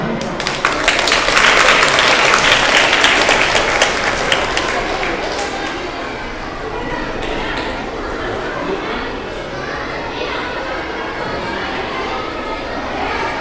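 Students and guests at a school debate program give loud applause that swells for a few seconds and then fades into continuous crowd chatter and shuffling movement in the hall.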